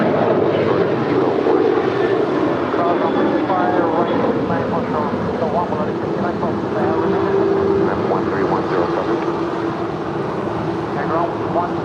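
A cargo Boeing 747 rolling along runway 25 left at LAX, a loud continuous engine roar with a steady whine layered over it, while voices and radio chatter run underneath.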